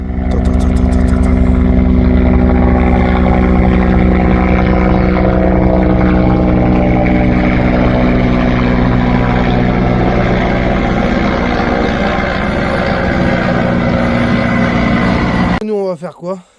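A helicopter flies nearby along a road, its loud, steady rotor and engine drone dominating for over fifteen seconds before cutting off abruptly.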